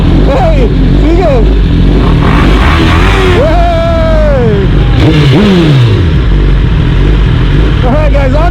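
A tuned Suzuki GSXR1000 motorcycle with a full exhaust revs loudly and close, with repeated rising and falling engine sweeps and sharp blips over a constant heavy rumble.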